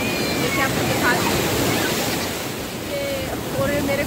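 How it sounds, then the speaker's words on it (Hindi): Strong monsoon ocean waves breaking on a Kerala beach, a loud continuous roar of surf with wind buffeting the microphone, and brief faint voices in the background. "लहरें बहुत तेज हैं और पानी का लेवल काफ़ी बढ़ चुका है"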